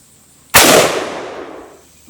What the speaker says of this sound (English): That was honestly the first shot.